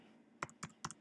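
Three crisp keystrokes on a computer keyboard as a short word is typed in a quiet room, each a distinct click spaced evenly, no voices.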